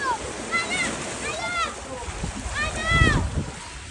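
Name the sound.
flood waves splashing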